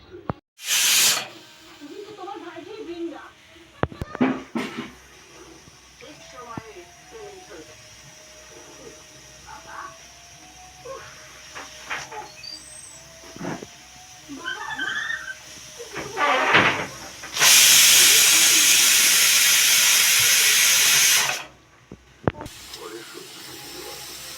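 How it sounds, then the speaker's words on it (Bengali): A pressure cooker holding biryani gives out a loud burst of hissing steam lasting several seconds, after quieter kitchen clatter and spoken voices. "হালকা আঁচে 3টা সিটি পড়লেই আমার কুকার বিরিয়ানি রেডি হয়ে যাবে।"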